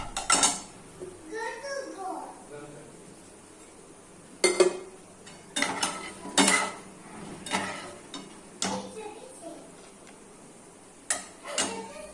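Metal spoon scraping and clinking against a pan as soya chilli is served onto a plate, a series of distinct close knocks and scrapes separated by short pauses, with brief speech at the start.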